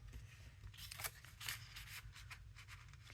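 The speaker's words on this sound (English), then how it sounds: "I think the scissors maybe work better." Scissors cut paper for a mini nature journal, a run of quiet, close snips and crisp rustles coming in short irregular bursts with no talking.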